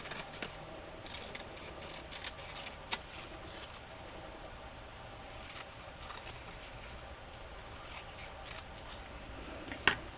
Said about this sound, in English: I can just cut out the square very easily